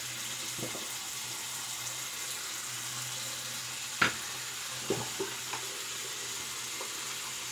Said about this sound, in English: I'll put this one under the water as we load the next